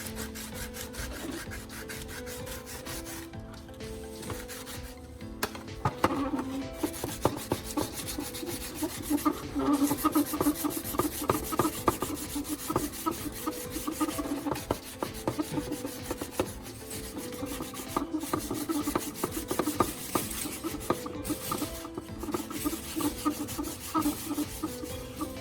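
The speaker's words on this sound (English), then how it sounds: "I switched to finer sandpaper to remove the large sand marks to make the surface smoother" Fine sandpaper rubbed steadily by hand across a repaired plastic surface, a continuous close rasping scrape with repeated strokes and no talk.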